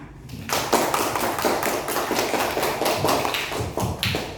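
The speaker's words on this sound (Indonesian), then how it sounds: "Ya, boleh tepuk tangan." An audience at a religious lesson breaks into brisk hand clapping after a short quiet lead-in, with many hands striking together in a steady, fairly loud rattle that persists to the end.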